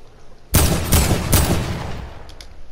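A few sharp, loud gunshots from a Fortnite Battle Royale match ring out close together and fade with a short echoing tail, with no talking over them.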